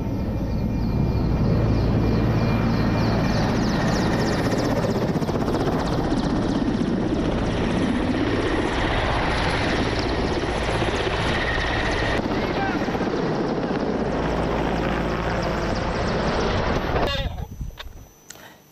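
Loud, steady rotor thumping and engine roar of military helicopters carrying troops, flying close, continuous throughout before fading abruptly at the end.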